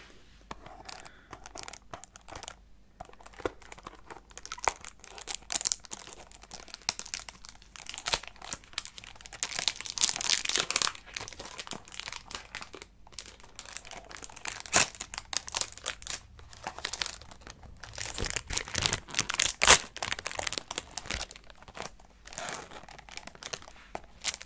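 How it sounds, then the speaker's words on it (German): Plastic foil is peeled and crinkled off a box of assorted tea bags, a long stretch of close, crisp crackling and tearing with irregular bursts, louder toward the middle and end. "Darf ich da mal die Folie von abmachen?"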